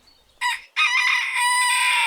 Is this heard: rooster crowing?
yes